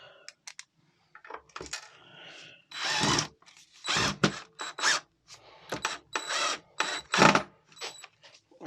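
Phillips screwdriver driving screws into a side repeater on a Mondeo MK3 ST220, with small metallic clicks and scrapes of screws and washers in short bursts, close up, interspersed with quiet gaps.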